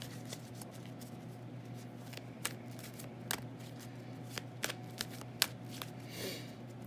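Tarot cards being shuffled and drawn in a quiet room, with soft intermittent flicks and light slaps scattered irregularly over a faint steady hum.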